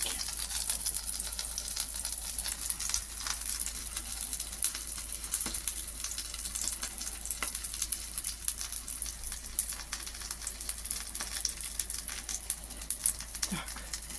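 Steady crackling sizzle of dough pasties (bilyashi) frying in a pan runs throughout, with occasional soft clicks and clatter, close and continuous.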